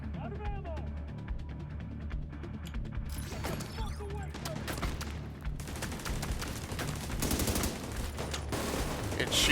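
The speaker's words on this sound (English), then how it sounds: "It's shooting at it, but it doesn't have a good angle." Video game gunfire aimed at an enemy, bursts of rapid shots and sharp cracks, scattered at first and then growing denser and louder toward the end, with voices under the action.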